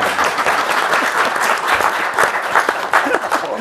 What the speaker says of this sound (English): Y'all please clap for me, please.